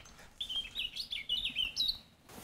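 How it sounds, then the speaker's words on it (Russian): Nightingales sing in a nature reserve, a run of quick bright chirping and whistled phrases at moderate distance over quiet background, starting after a short pause. "Сладкоголосые пернатые сейчас стараются покорить сердца самок своим пением"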